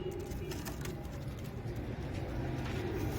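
Royal Teddy pigeons, one male kept with three females, coo softly in a steady, low murmur that runs continuously through the short stretch, with no one talking.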